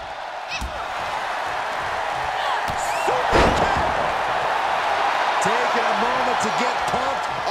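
A steady, roaring arena crowd in the WWE 2K23 wrestling game swells and cheers throughout. Commentary voices run over the top of it during a women's match.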